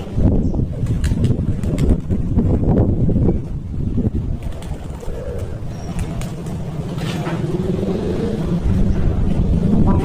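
Strong wind roars across a rooftop where pigeons are kept, a loud continuous rumble with gusting swells and no clear talk.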